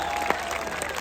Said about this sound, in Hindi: दूर दूर तक सब ताली मारो